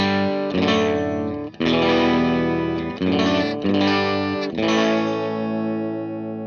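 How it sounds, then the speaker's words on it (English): A distorted electric guitar rings through a modelled amp with no reverb, four sustained chords struck one after another, loud and alone. "So this is just the amp without the reverb."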